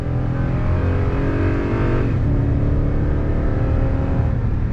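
A 2021 Toyota Tundra Platinum pickup with a 6-speed gearbox accelerates hard on throttle, its engine a loud, steady roar that climbs, then dips as the transmission shifts down around midway and keeps pulling.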